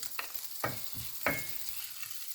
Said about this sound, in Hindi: अब मैं इसमें 1/2 टीस्पून ज़ीरा डालूंगी और इसको थोड़ा सा भूनती हूँ